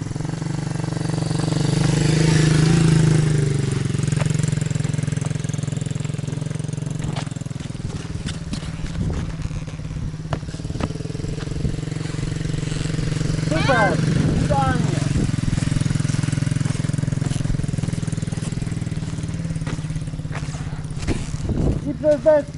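A small MRF 80cc pit bike engine drones and revs continuously at close range, rising and easing in pitch as the throttle changes, while people talk over it.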